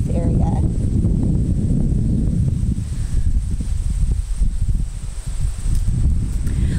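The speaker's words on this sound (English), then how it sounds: "Let's go back inside because it's pretty windy out here." Strong wind buffets a microphone outdoors, a steady low rumbling roar with gusty swells and rustling throughout, loud and close, with no voices.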